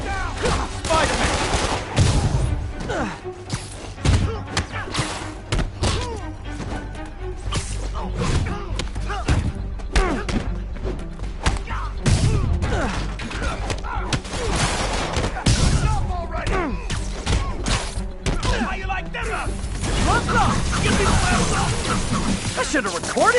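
Dense, loud bursts of gunfire from thugs shooting at Spider-Man in Marvel's Spider-Man on PS4, with rapid fusillade rattles and thumps running throughout alongside shouting voices.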